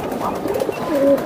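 A single Giribaz pigeon gives a soft, short coo at close range against quiet background hiss.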